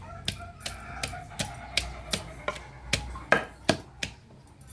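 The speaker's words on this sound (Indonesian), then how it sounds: "cabai rawitnya ditumbuk saja ya sama bawang merah supaya lebih wangi" Bird's eye chilies and shallots being pounded in a mortar while cooking tofu and fried egg curry, a steady series of about ten sharp, close thuds at a regular rhythm, with no talk over them.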